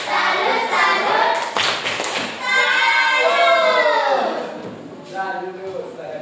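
A school class claps through the rhythmic tepuk salut chant, bursts of hand claps mixed with children and an adult chanting in unison.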